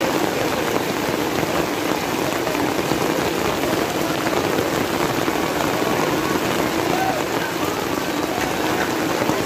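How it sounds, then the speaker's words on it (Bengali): Steady rain pours down outdoors around a fish shop selling aquarium fish, a dense continuous patter on surfaces, fairly loud and even throughout with no speech. "তো যা বৃষ্টি শুরু হয়েছে"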